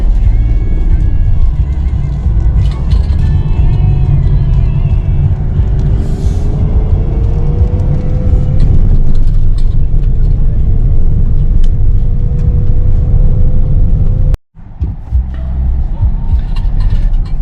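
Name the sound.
car driving along a road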